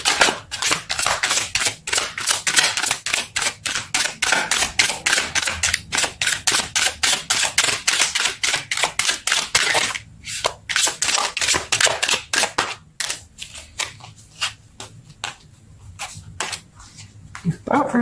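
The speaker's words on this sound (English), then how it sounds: "Let's pull some more cards." Tarot cards pulled and handled one at a time during a Libra love reading, giving a long run of fast, crisp card flicks and riffling snaps, steady and close, then thinning into sparser clicks and slaps near the end.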